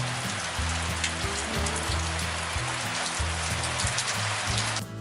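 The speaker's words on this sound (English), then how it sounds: "But it's raining" Steady rain patters on a surface, a continuous hiss with dense drops and low rumbling tones underneath, fairly close and even throughout.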